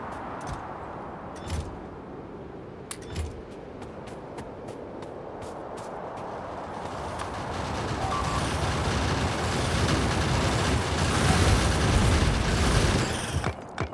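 Grenades explode in Factorio, a run of sharp booms and crackling blasts that builds into a dense, loud rumble of explosions over the second half, with no talking.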